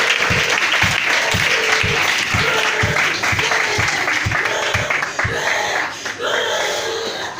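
A church congregation applauds the Lord, with loud sustained clapping and rhythmic low thumps keeping a regular beat throughout, and voices faintly mixed in under the crowd.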